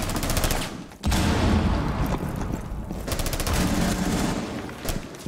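Rapid video-game gunfire, with dense automatic bursts that run almost continuously, loud and close, broken by one brief pause.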